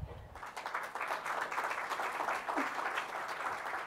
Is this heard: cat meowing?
no